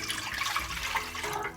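Water poured into an idli cooker, a short steady splashing stream filling the pot up to the marked line, close and alone with no talk.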